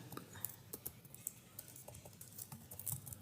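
Quiet, steady typing on a computer keyboard as a file name is entered, a light patter of quick key taps close by with no speech.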